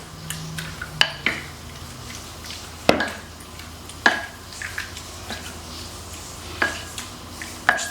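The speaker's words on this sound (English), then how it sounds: "I'm just gonna kind of toss this around so that it's kind of covering all of the shrimp." Shrimp and broccoli get tossed in honey garlic sauce in a pan, with repeated clanks and scrapes of a utensil against the pan over a faint background sizzle, several sharp hits spaced a second or so apart, no voices.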